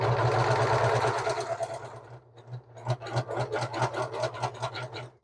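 A sewing machine driven by a foot pedal runs steadily at first, then eases off and starts again in a slower, pulsing stitch rhythm, stitching straight lines close up with no talking.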